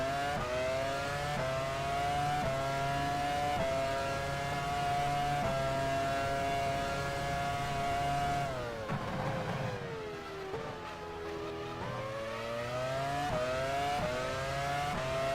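A Ferrari Formula 1 car in F1 Challenge 99-02 at the 2000 Austrian Grand Prix, its engine wailing steadily through rising gear pulls, then dipping and climbing again through a shift sequence, loud and continuous with no talking.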